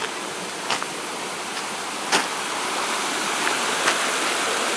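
Water drains and flows steadily, a continuous rushing wash like a small stream in the Philippines, moderately loud with a few faint knocks over it and no talk.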